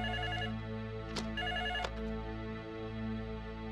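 A telephone rings with a steady electronic tone pattern repeating through the whole stretch, with two sharp clicks in the middle and no talking.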